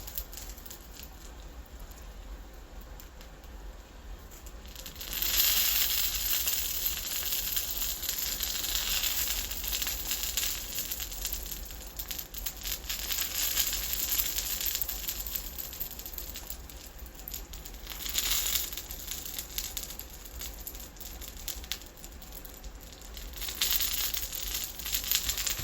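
Sliced eggplant frying in a pan gives off steady, loud sizzling and spattering that surges several times over a long stretch, close by, with no talking.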